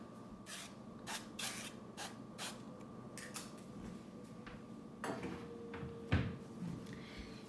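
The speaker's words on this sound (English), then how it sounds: "So I sprayed a little bit of avocado oil on the top of this one" Short hisses of avocado oil sprayed from a bottle onto chicken thighs in a home kitchen, several quick bursts in a row, followed by soft kitchen clatter.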